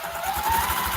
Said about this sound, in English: I'm sewing my 4 patches to my background.